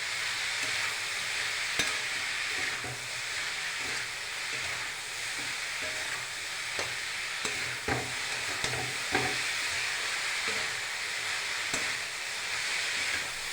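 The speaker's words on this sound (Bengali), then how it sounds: "কেটে রাখা লাউ দিয়ে দিচ্ছি, লবণ আর হলুদ দিয়ে দিয়েছি। ভালো করে নাড়াচাড়া দিয়ে" Cut bottle gourd stirred with salt and turmeric in a pan, giving a steady sizzling fry with repeated scraping and stirring knocks throughout, close and moderately loud, no voices.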